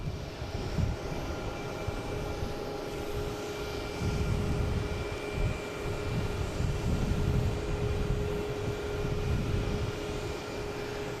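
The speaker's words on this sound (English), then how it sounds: "we got Air Portugal taking off here" An Air Portugal airliner taking off at Boston Logan International Airport gives a steady, distant jet roar with low rumble that holds and swells slightly throughout.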